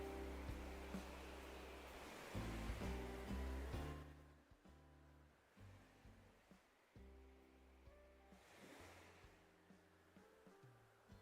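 Gentle water ambience from the Animal Crossing video game, a soft washing hiss layered with a low droning background tone, loud at first and then quieter, with no talk.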